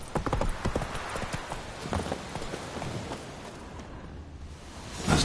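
Hooves of the horse Roach clatter in a quick galloping rhythm in The Witcher 3 video game, loud at first and then settling into a softer, steady clip-clop before picking up again at the end.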